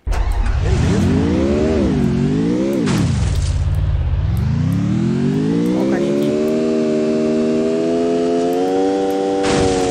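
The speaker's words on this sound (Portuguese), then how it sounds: "Um carro." A car engine in the Kalahari map of a battle royale video game revs loudly up and down, then holds a steady rising drone, with a brief crash partway through. The game audio fills the whole stretch.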